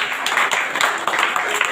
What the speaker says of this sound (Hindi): इन दोनों के लिए जोरदार ताली मारेगा